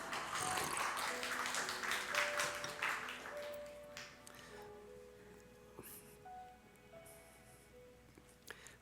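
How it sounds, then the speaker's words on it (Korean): A church congregation claps during a worship service, a burst of scattered hand-clapping that fades out after about three seconds, leaving quiet room tone with a few faint taps and pings. "물 마실 때 박수 한번 쳐주시면."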